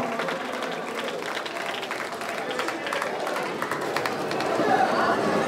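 A crowd at a kabaddi tournament prize ceremony claps continuously for several seconds, a broad steady patter that swells slightly toward the end, with voices mixed in.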